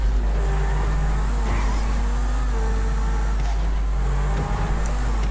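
A GT3 race car engine in GTA Online drones loudly and steadily, its pitch holding with small rises and dips as the car runs laps, with a brief disturbance near the end.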